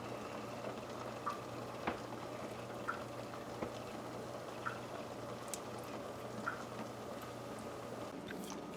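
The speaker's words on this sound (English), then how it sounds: "So while our potatoes and the egg is boiling" A steady low bubbling and simmering with faint hiss, punctuated by occasional small pops and ticks, continuous throughout.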